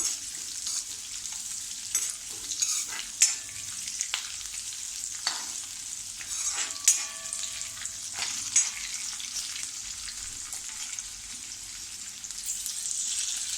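Potato bhaji with chillies sautés in a pan over a low gas flame, a soft continuous sizzle broken by intermittent scraping stirs and light clatters, close and steady with no speech.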